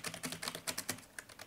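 Rapid, uneven taps on a computer keyboard, a quick run of crisp clicks with short gaps between them, close and fairly quiet.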